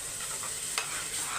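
Steady broadband hiss of a potato and pea gravy sizzling in a hot pan, with a brief sharper burst partway through as water is poured in, no voices.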